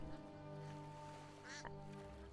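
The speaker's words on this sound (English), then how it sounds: "they make really cute duck and swan noises, as you might imagine" Ducks and swans in a modded Skyrim game give a brief nasal quack near the middle over a steady droning game background with a faint hum.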